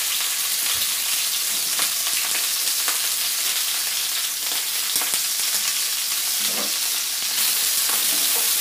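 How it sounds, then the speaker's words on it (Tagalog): Ingredients for a basic brown stock are stir-fried in a little oil in a hot, smoking pan, giving a steady, dense sizzle and crackle with occasional stirring scrapes throughout, close and fairly loud, with no talking. "Pag mainit na, siguro na napapansin nyo, mausok na. Doon natin ito ilalagay. At umpisahan na natin siyang i-stir fry."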